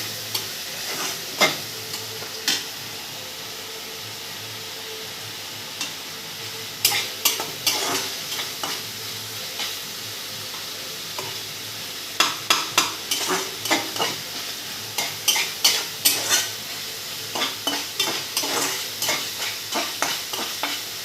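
Sea fish fries in a pan with a low continuous sizzle, punctuated by clusters of sharp spatula taps and scrapes against the pan that come in quick bursts toward the end.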